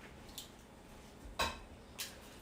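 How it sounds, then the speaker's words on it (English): Frying pan moved aside on a kitchen stovetop: three brief metallic clanks and scrapes, the middle one loudest, over a quiet room hum. "Let me get this frying pan out of the way while you're finishing that egg."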